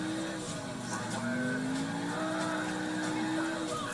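A sports car engine in the GTA IV video game drones steadily under game music, its pitch rising and falling as it drives and accelerates at a moderate, even level.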